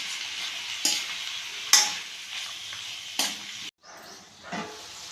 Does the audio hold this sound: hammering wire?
no